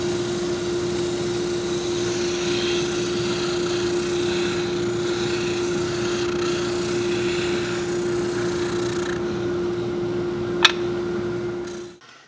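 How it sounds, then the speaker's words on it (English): An oscillating spindle sander works an inside corner of a wooden jointer push block, giving a steady motor hum with a gritty rasping layer over it. It runs evenly, then one sharp tick sounds and the motor cuts out at the end. "If you have a spindle sander, this has to be an oscillating one. It goes up and down."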